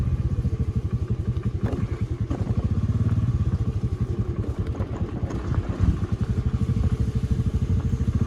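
A motorcycle engine thrums steadily and loudly throughout, a close, continuous rhythmic putter with occasional rattles as it rides along a slippery forest road near Ratnapura, Sri Lanka.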